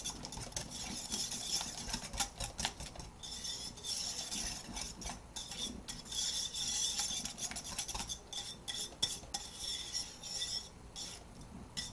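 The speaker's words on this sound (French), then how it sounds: "On prend un fouet, on peut le mélanger tout ensemble" A metal whisk beats a mixture in a bowl during a cooking demonstration, giving a fast, steady scraping and clinking rattle that keeps going with small pauses, fairly faint and close.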